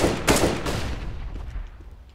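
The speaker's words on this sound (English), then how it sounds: "Throwing flashbang." A flashbang grenade going off in the video game CS:GO, a single loud burst that decays into a fading ringing rumble over about two seconds.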